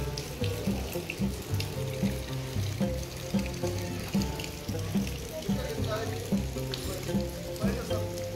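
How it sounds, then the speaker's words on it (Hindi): Rain at Khaplu Palace, pattering steadily like water running onto a hard surface, with a continuous wash and irregular drips throughout, moderately loud and close. "ये आप बारिश की आवाज़ सुने इसमें।"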